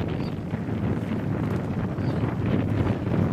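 Steady wind roars and buffets the microphone during a women's rowing race on the river, a constant loud rumble with faint rustling and no voices.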